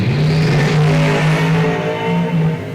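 A race car engine revs hard at the start of a race, a loud, rough, roaring drone that rises and falls with the throttle.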